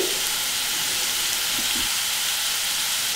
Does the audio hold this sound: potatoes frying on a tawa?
yes